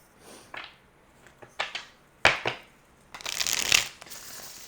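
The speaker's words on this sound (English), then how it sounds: "let's do the Gilded Tarot" Gilded Tarot cards are shuffled by hand in a series of crisp riffling bursts, with a longer, denser flutter of cards near the end, close and fairly quiet, with no voices.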